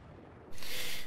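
A mortar cannon fires in Battlefield 4 during a naval strike domination match: a sudden loud, broadband blast that bursts in and sustains after a quieter rumbling lead-in.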